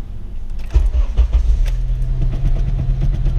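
A Honda Civic Si FA5 with its stock exhaust cranks and catches, then settles into a steady, quiet idle heard close from inside the car, with a faint jingle of keys at ignition.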